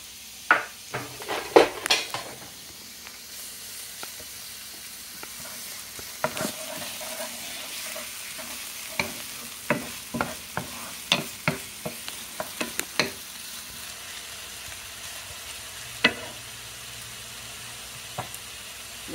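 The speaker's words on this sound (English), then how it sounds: "What you're doing here, you're going to saute the garlic" Garlic and peppers sauté in a pan for a quesadilla, with a steady sizzle underneath and frequent sharp scrapes and clinks of a utensil stirring against the pan, close and fairly loud.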